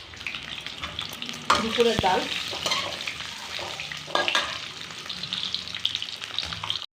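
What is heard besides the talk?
eggs frying in oil with salt and turmeric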